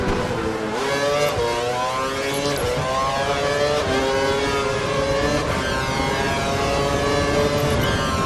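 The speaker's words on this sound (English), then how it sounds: "Turning up the engine for a few laps" An F1 2012 race car engine screams close and loud, its revs climbing and dropping through repeated gear shifts in a continuous high-pitched whine with no talk over it.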